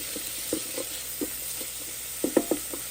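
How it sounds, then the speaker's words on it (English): Food sautés in a pan with a low, even sizzle, punctuated by a few light knocks and stirring clicks from a utensil. "Just saute it for about the time you're seeing here, and that should be good enough."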